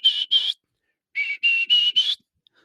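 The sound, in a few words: whistled imitation of a wild turkey kee-kee call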